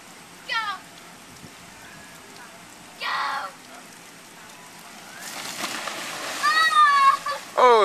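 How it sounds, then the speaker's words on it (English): Water splashes in a pool during a Fourth of July gathering with friends, coming in short bursts with a louder run of splashing near the end, while people shout and laugh nearby. "Oh, you splashed me too."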